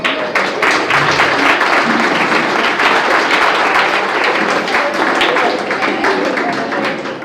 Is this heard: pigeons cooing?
no